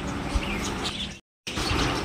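Small birds chirping at a Hindu Mahadev temple, with soft twittering calls under a busy, noisy outdoor background that cuts out briefly midway.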